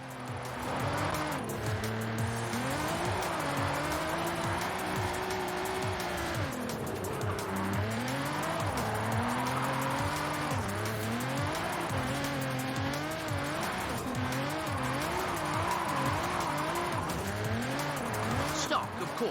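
In Forza Horizon 5, a stock all-wheel-drive car drifts on a wide road. Its engine revs rise and fall repeatedly under long tyre squeals, heard close and continuously for about twenty seconds.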